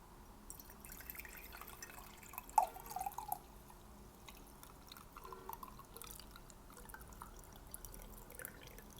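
Tea poured from a heavy kettle makes a faint, quiet trickle and a few soft drips in a hushed indoor setting, with a small splash burst near the start and no speech.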